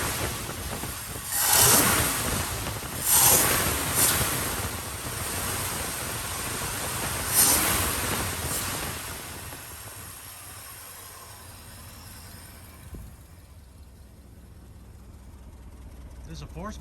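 A 1967 Ford F-350 truck engine, revived after sitting ten years, runs through its muffler with loud rumbling bursts and puffing exhaust pulses that fade to a quieter idle, with speech in the background.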